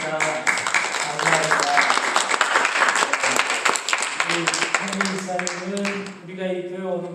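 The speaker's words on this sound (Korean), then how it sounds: "우리 한번 일어서시면 우리 환영의 박수 다시 한번 하겠습니다" A church congregation claps in welcome for a deacon during a Sunday worship service, dense applause building for several seconds under a speaking voice, then thinning out as talk and a sustained tone continue alone.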